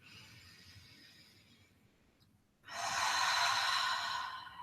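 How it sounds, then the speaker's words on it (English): Deep, slow breathing, a quiet nasal inhale followed by a much louder, broad open-mouthed exhale like a sigh, close and alone with no talk. "breathe in with the nose and out with the mouth for each of these breaths"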